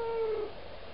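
A cat gives a short meow, a single drawn-out tonal cry that fades within half a second, heard close and alone against a quiet room.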